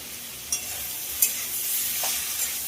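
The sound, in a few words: stirring frying okra, potato and tomato in pan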